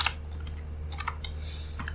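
Keys on a computer keyboard are tapped in a quiet room, with sparse, uneven clicks and a short quicker burst, close by over a low steady hum.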